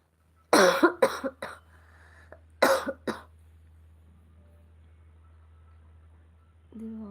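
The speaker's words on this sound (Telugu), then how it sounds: "నాకు కాఫ్ ఉండి ఊరికే వస్తుంది" A person with a persistent cough gives a few sharp coughs in quick bursts, a pause, then another cluster of harsh coughs close to the mic in a quiet room with a low hum.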